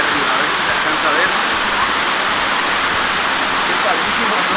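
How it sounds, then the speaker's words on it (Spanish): Waterfall at the basalt prisms of Huasca, Mexico, roaring as a loud, steady broadband rush of falling water with no breaks, filling the whole stretch on its own. "Vean esta cascada de ahí arriba"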